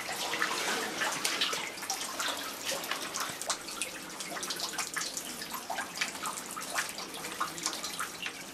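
Water gushing and pouring into a flooded cellar on a submerged street, with pumps running; a steady, dense splashing rush fills the whole stretch without pause.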